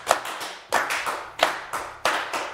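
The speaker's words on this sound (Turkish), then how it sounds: "Üzgün alkış kafamızda çınladı şu an" Studio audience on a Turkish word game show gives a short, subdued burst of applause, several claps in quick uneven pulses.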